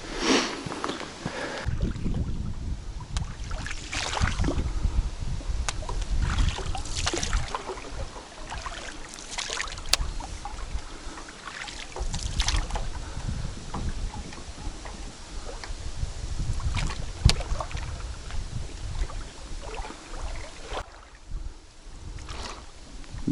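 Gusty wind buffets the microphone in repeated roaring surges while a loaded boat crosses water in the wild taiga, sometimes dropping to quieter lulls.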